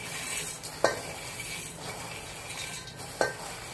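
Boondi are tipped into hot sugar syrup for laddoos and stirred, giving a soft, wet background sizzle with two distinct clinks of a spoon against the pot, close by and without speech.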